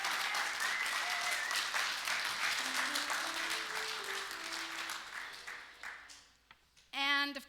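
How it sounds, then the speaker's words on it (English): An audience breaks into sustained applause in honor of Erin Renfro, dense clapping that holds steady for several seconds before thinning out, with a brief voice at the end. "I would love for you to clap in case she happens to hear this video"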